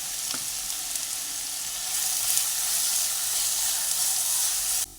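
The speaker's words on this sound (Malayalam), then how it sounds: "ഇഞ്ചി പച്ചമുളക് വെളുത്തുള്ളി വേപ്പില എല്ലാം ഇട്ട് കൊടുത്തിട്ടുണ്ട് ഇനി ഇതൊന്ന് വഴറ്റിയെടുക്കാം" Ginger, green chili, garlic and curry leaves sautéing in hot coconut oil give a steady, close broadband sizzle that swells slightly midway and cuts off abruptly near the end, with no voices.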